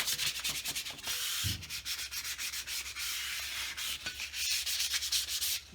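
Hand sanding on a car shock tower brace, a steady close scratchy scrubbing with quick back-and-forth strokes that runs continuously with only brief breaks and no talking.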